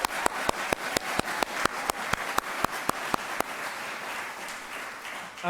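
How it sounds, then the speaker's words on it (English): At a university staff recognition ceremony, an audience applauds the awardees, a crowd's clapping overlaid with one close, sharp, evenly spaced rhythmic clap that stops before the applause fades out. "Maybe one more round of applause."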